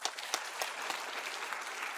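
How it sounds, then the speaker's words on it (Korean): A church congregation claps at a Wednesday worship service, a short burst of moderately faint, even applause with a few sharper claps standing out. "박수하시겠습니다"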